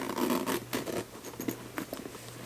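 Zipper on a pocket of a Kipling backpack being opened, a short quiet run of scratchy zipping rasps close by with brief pauses, no voices.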